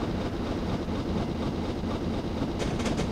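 A British steam locomotive runs steadily in Train Simulator 2019, a dense continuous rumble and roar of the moving train with faint rhythmic clatter, no voices.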